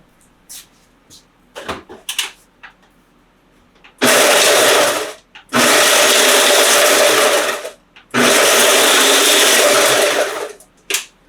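A blender whirs loudly in three bursts of a few seconds each, grinding freeze-dried food into powder, with short pauses and a few light knocks before the first burst.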